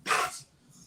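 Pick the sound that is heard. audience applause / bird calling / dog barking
dog barking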